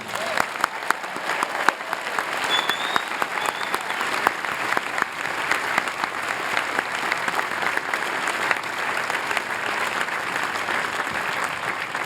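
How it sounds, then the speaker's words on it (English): Commencement crowd at Harvard applauding the graduating class of 2014, a loud, dense, sustained wash of clapping from a large audience that holds steady for the full twelve seconds. "Let's have a big round of applause for the class of 2014"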